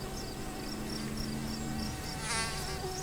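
A mosquito buzzes in a continuous thin, high whine, steady and fairly close, with no voices over it.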